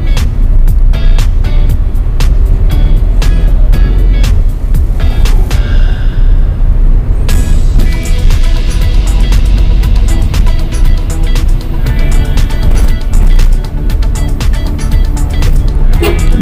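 A car creeps along a narrow road at about 20 to 30 km per hour, near and loud, with a constant rumble of engine and tires, scattered knocks and clatters, and a brief hiss partway through.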